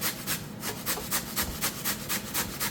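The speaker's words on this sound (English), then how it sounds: "So we'll just give this a quick grate." Potatoes rasp rapidly against a hand grater for corn chowder, a steady run of about a dozen scratchy strokes, close and even in rhythm with no talking.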